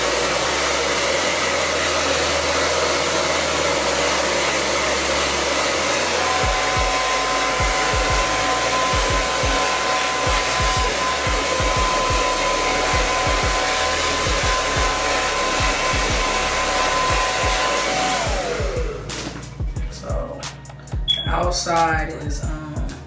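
A hair dryer blowing on a dyed honey brown wig, a loud continuous close-up whoosh that runs steadily for most of the clip, then cuts off near the end as a person starts talking.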